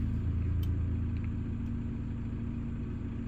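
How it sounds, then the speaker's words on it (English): A 2.0 BiTDI Volkswagen Amarok engine in limp mode with a P0087 fuel pressure fault starts and idles with a steady low rumble and slight unevenness, close by, with no talking. "See, let me start the car."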